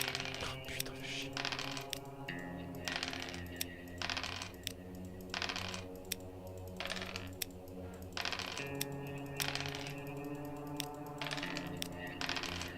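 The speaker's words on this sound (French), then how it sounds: "je clique plein de fois, comme ça évite les misclics" Rapid clicks of a computer mouse during a speedrun of the game Bad Dream: Coma, sharp repeated taps in irregular bursts over steady looping game music.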